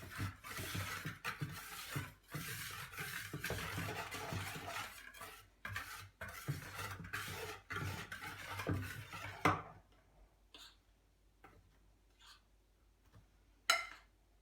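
Carrot cake batter being stirred with sifted flour in a bowl: a dense run of scraping, clinking strokes for several seconds, then sparser, quieter scrapes with a few sharp knocks.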